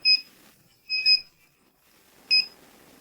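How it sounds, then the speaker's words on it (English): A gas leak detector gives short electronic beeps in a sparse pattern: one, a quick double, then another, clear and high-pitched against near silence. "An acoustic alarm can also be set. The device then starts to beep"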